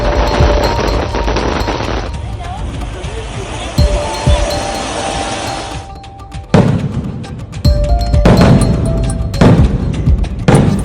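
Diwali firecrackers burst in rapid crackling volleys and sharp single bangs, loud and close, with stretches of dense popping separated by short gaps and people's voices mixed in.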